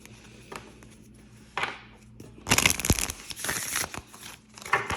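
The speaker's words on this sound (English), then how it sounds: "That was a crappy shuffle." Tarot cards being shuffled by hand: papery riffling and crinkling bursts, sparse at first, then a dense loud flurry of card rustles and snaps near the middle, with scattered softer shuffles afterward and no talking.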